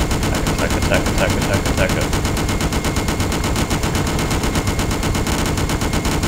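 Enemies in the Just Cause video game fire guns in a dense, continuous burst that stays loud throughout, with a short shouted word partway through.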